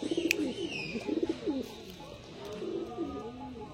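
Several Andhra pigeons coo close by in rolling, repeated calls, and a short sharp chirp stands out near the start.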